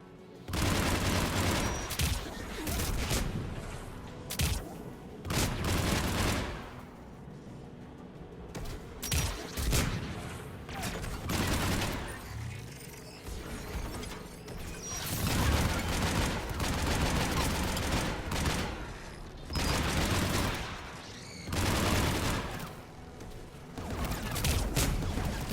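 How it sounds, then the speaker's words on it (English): Anti-aircraft guns firing in the video game Mass Effect 3, repeated heavy booming bursts of fire recurring every few seconds, loud and dense, layered with battle noise throughout. "AA guns ahead."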